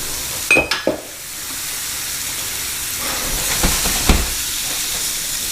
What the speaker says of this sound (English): I'm gonna add a little bit more olive oil here.